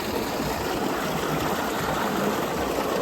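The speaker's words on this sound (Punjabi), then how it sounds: "ਰਸਤੇ 'ਚ ਟਿਊਬਵੈਲ ਮਿਲਿਆ ਸਾਨੂੰ ਚੱਲਦਾ" Water gushes steadily from a running tubewell in farm fields, a dense, constant rushing flow heard close up with no voices.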